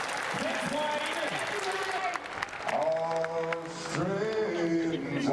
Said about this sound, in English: Give Wayne a big round of applause